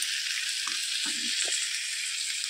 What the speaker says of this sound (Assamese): এতিয়া মাংসটো মই ভালদৰে লৰাই থাকিম। এনেকৈ লৰাই থাকি ভালদৰে লৰাব লাগিব যাতে তলত লাগি নধৰে